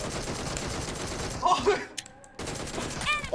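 Gunfire in the mobile battle game PUBG Mobile, a rapid burst of automatic shots, then a short silence and more game sounds, loud and close with voices chatting over it.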